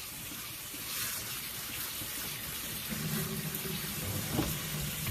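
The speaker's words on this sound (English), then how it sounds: "You want to drain the water off of them and make sure that you rinse them good." Tap water runs steadily into a kitchen sink while three cans of drained chickpeas are rinsed, a continuous moderate rushing and splashing that stays even throughout with no one talking.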